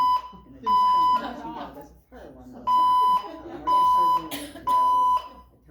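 A building fire alarm, falsely activated on a voice evacuation system, sounds a series of loud, bright electronic beeps, each lasting about half a second, with a voice heard in the gaps between them.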